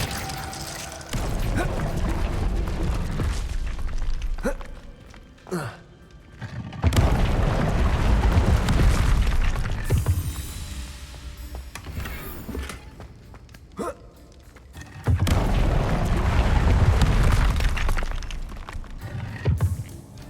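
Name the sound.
spell blasts from Hogwarts Legacy video game combat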